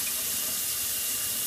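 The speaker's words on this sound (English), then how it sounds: "I'm going to pour water into this jug with the tea and the kombucha start in it." Water pours steadily into a glass jar holding tea and a kombucha starter, a continuous close splashing rush filling the jar with no voices.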